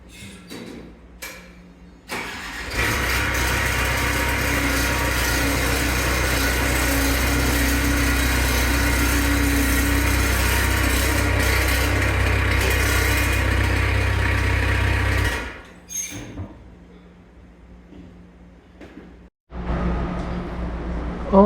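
A skid steer engine starts and runs close by at a loud, steady idle for about twelve seconds, then shuts off into near quiet before another short burst of engine noise at the end.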